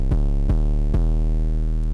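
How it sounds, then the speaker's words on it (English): An 808 bass plays three deep booming notes with sharp clicky attacks, each sustaining into a long low tone, loud and alone in a music production session. "I decided to use this 808."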